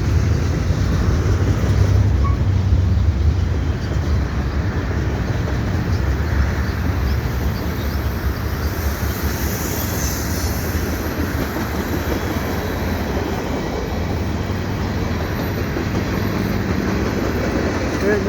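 A long CN freight train of gondola cars rolls past a footbridge in autumn, a loud, continuous rumble and rattle of wheels on track sustained throughout.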